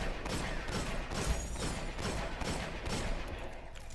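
Imago Loop fires in the Destiny video game, a fast run of sharp, evenly spaced shots rattling on for several seconds with no talk over them.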